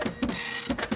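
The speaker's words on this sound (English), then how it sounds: "I replaced the cartridge and it prints out 20 test pages." An inkjet printer running test pages after a cartridge swap: close, loud mechanical whirring in short bursts with brief pauses between passes, and no voices.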